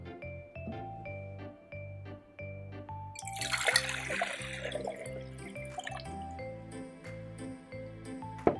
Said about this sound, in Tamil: இந்த நீரை பிள்ளைகளே நாங்கள் இந்த அளவு சாடியினுள் ஊற்றி பார்ப்போமா